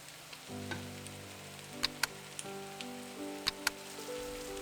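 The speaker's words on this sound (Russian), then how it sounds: "Добавляю фарш к овощам." Ground beef, 450 grams, hitting a pan of vegetables cooked for a Bolognese sauce, with a steady, moderate sizzle and a few sharp crackles and pops through the cooking, and no talking.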